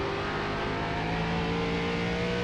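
An ARCA race car at Nashville Fairgrounds in the iRacing sim, its engine buzzing loud and continuous with a steady rising whine as it builds toward full throttle. No one speaks.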